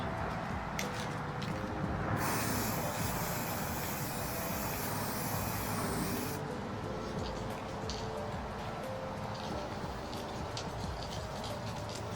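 Aerosol spray varnish hissing onto a painting outdoors, a steady broadband spray burst of about four seconds near the start, close and fairly loud over constant outdoor background noise.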